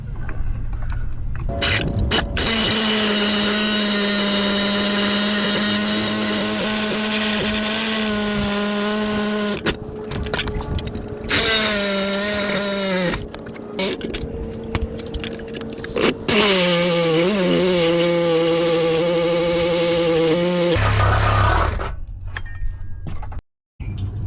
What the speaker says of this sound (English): all I have is a sawzall right here. Let's see if this can do it.